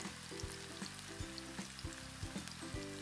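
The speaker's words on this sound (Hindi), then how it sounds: "अब हम इसमें एक एक करके हमारे समोसे डालेंगे और फ्राई करेंगे" Samosas deep-fry one by one in hot oil, a quiet bubbling sizzle with a low background hum and light regular taps and clicks every half second or so, with nobody speaking.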